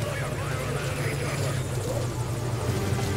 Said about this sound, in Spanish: que viene el helicóptero